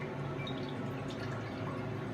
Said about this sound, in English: I'm going to turn it on, and I'm gonna pour my cream in